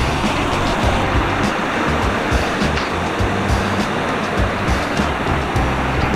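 Mountain spring water rushes steadily near a pool on Mt. Kinapuin, a loud continuous broadband roar of flowing water with no pauses, close by.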